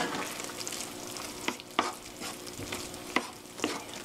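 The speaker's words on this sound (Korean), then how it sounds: "고루 섞어주세요." A spoon stirs one-pot fusilli in tomato sauce in a pan, giving soft, steady scraping and sizzling with a few sharper clicks of utensil against the pot, fairly quiet and with no voices.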